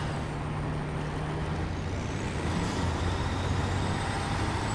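Heavy truck engine in the off-road game Snowrunner, a steady loud droning rumble with a low idle hum, continuous throughout with no voices.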